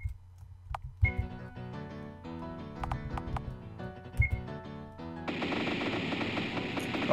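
Rapid gunfire in a video game amid snipers, with sharp bursts and clicks over a steady tonal soundtrack, followed by a dense rushing noise near the end.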